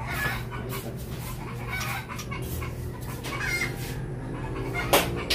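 Several chickens cluck steadily, with a rooster-like call or two mixed in, over a constant low hum of farmyard background.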